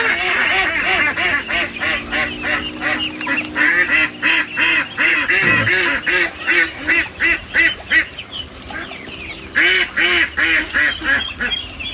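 A flock of farm ducks quacks loudly and close by, calls overlapping in rapid, rhythmic bursts with a few brief lulls.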